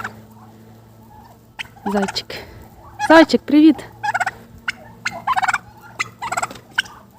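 A young turkey gives several short, close gobbling bursts in quick succession among chickens and other farmyard fowl, while a person speaks briefly nearby.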